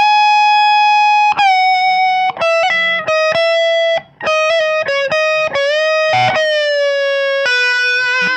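Distorted electric guitar notes with sustained, rising string bends, a series of phrases ringing loud and close with brief gaps between.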